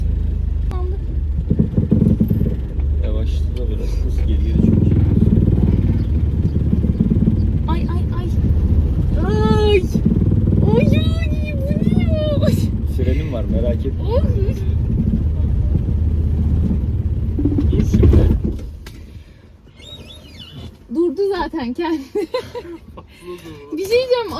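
A car's engine rumbles steadily while the car is manoeuvred back and forth into a parking space, people talking and laughing over it, until the engine noise drops away near the end.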